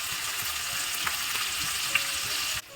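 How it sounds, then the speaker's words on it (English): Fish shallow frying in oil for a masala curry, a steady close sizzle with faint crackles and pops throughout, no voices. "Now we will do a quick shallow fry for the curry."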